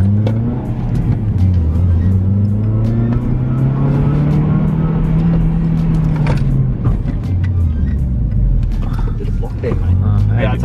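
A car fitted with a Spoon brake upgrade brakes hard from around 70 with ABS active, heard loud from inside as the engine and road rumble shift and fall in pitch, with voices talking over it.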